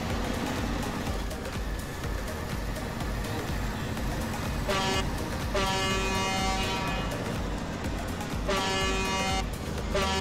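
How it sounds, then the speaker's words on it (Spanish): A truck horn in SnowRunner on an Ontario map blares twice over a constant rumbling engine, each honk sustained for about a second, loud and close. "Me ha tocado la bocina con el botón de la cámara."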